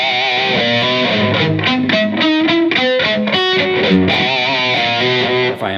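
An electric guitar plays a fast riff through delay and flanger, distorted notes tumbling in quick succession with echoing repeats and a sweeping wash, loud and steady with no voices.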